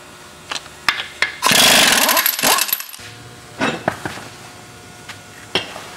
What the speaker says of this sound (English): So I'm going to go ahead and pull the wheel off.